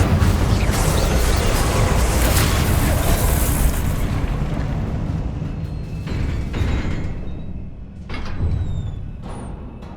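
Fiery spell blasts from the Hogwarts Legacy video game roar in a dense, loud, continuous wash of booms and bursts, thinning slightly toward the end with sharp cracks breaking through.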